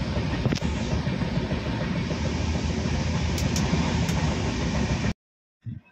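Inside a moving train, a steady loud rumble of rolling wheels and carriage noise with faint clatters, cutting off abruptly to near silence with a brief low thump at the end.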